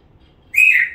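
A pet parrot gives a single short, bright whistle, close and clear after a moment of near silence.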